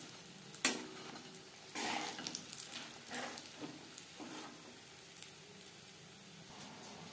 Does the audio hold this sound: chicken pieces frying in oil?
yes